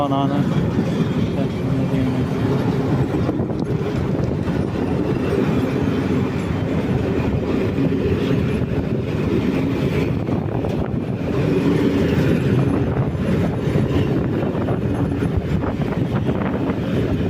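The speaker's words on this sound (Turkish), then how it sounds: "Yiğitaş Lojistik Tren, Harman Yük Treni gidiyor" A TCDD freight train hauled by locomotive D 33 089 rumbles past steadily leaving Germencik station, a dense low roar with rail clatter and some wind buffeting the microphone.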